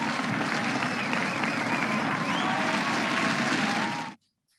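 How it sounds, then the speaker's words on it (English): Audience applause at an awards celebration honoring a school's alumni, steady dense clapping that holds for about four seconds and then stops abruptly into silence. "Let's give her a round of applause too."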